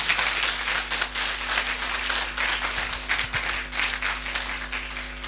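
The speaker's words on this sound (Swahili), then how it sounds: "Situmpigie makofi tafadhali" Moderate applause from an audience at a foundation launch event in a youth centre, steady clapping for several seconds over a constant electrical hum, fairly distant.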